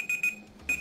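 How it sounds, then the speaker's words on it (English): An alarm beeps in short, sharp electronic pulses, three quick bursts then a pause and another, loud and close with no talking. "Don't worry about that beeping, that was just the alarm going off"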